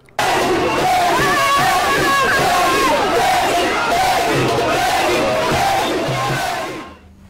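A dense crowd roars and cheers continuously for the transitional president at a national day celebration on Place des Martyrs, a loud, sustained mass of voices and shouts that fades out at the end.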